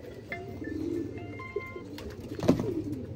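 A Sialkoti pigeon, a hen bird held in the hand, gives soft, low cooing against steady background noise, with a slightly louder coo near the end and no talking.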